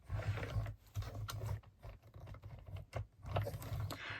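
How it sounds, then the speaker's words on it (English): A mini cut and emboss machine cranks a die through cardstock, giving a faint, uneven rolling and grinding with short ratcheting pulses and brief pauses. "then pop that through my mini cut and emboss machine that I have sitting ready, waiting."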